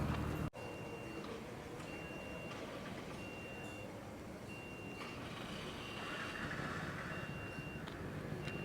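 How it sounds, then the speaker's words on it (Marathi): MSRTC bus engines idle and rumble at the Mahad bus depot while a high reversing beep repeats at a steady rhythm, fairly quiet overall. "गाडी आलेली आहे महाड बस स्थानकमध्ये"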